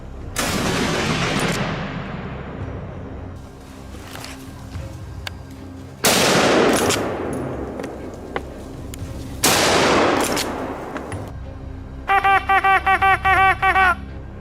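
Rifle shots ring out during a wild boar hunt: three loud, sharp blasts a few seconds apart, each trailing off into a long rolling echo, then a quick burst of rapid beeping tones.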